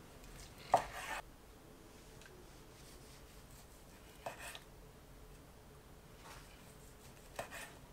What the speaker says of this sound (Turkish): Şöyle birkaç dilim keseyim.